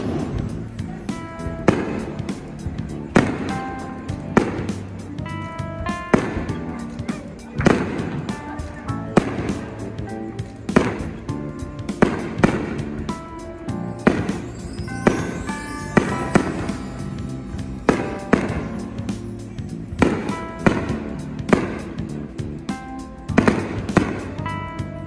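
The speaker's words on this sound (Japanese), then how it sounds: "映る花火はいかがでしょうか。" Summer fireworks display at a resort in Karuizawa, with repeated booming bursts and crackles at irregular intervals every second or two, fairly close and loud, with faint voices in the background.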